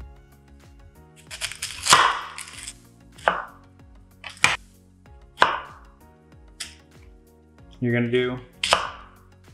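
A knife chops through a whole white onion, giving several sharp, separate thuds and cuts at uneven intervals, close and fairly loud, while a person talks between the strokes.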